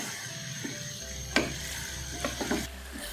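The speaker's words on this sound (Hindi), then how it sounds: "चिकन ऐड करके चिकन को फ्राई करेंगे तब तक जब तक इसका कलर चेंज ना हो जाए।" Chicken fries in a karahi over a medium flame, a soft continuous sizzle with a few clinks and scrapes of stirring.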